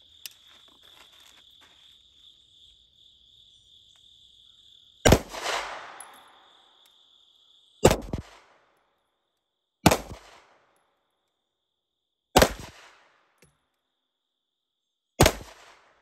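Five sharp, loud pistol shots from a Wilson Combat EDC X-9 fired at an outdoor range, spaced two to three seconds apart, each with a short echo tail over a faint background of chirping crickets.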